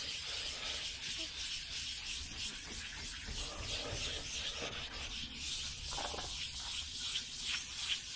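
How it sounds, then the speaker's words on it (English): Sandpaper scuffs steadily over overspray paint on a 1969 Chevelle Malibu body, a continuous close rasping rub with small shifts in pressure and no pauses. "And just scuff it up real good."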